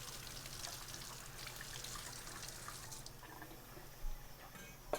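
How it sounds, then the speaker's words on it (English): Running tap water splashes as a knife is rinsed of sticky bits in a kitchen sink, a soft steady flow with faint drips and a small knock near the end. "Rinse the sticky bits off of the knife."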